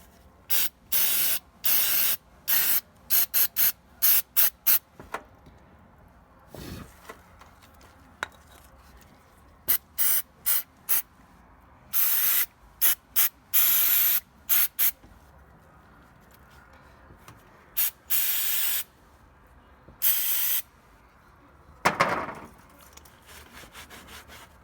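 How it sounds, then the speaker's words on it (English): Repeated bursts of MAF airflow sensor cleaner sprayed onto the mass airflow sensor of a 2000–2006 Toyota MR2 Spyder, short and long hissing blasts in an irregular series, close and loud, with no talking. "And I have this spray, MAF airflow sensor cleaner."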